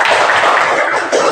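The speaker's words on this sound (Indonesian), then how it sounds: "Maka tepuk tangan buat Stella." A classroom of students claps together for a classmate, a dense, continuous burst of applause that is loud and close and lasts only about a second.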